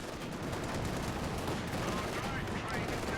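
Sustained automatic fire from a 222 armoured car in Company of Heroes 2, a dense, steady rattle of machine-gun bursts with explosions mixed in, continuous across the whole stretch with faint speech underneath.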